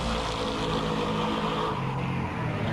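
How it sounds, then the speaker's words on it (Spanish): A car engine rumbles loudly and continuously as the vehicle drives away, its tone gradually sinking lower toward the end. "Pero al alejarse, el sonido es más grave."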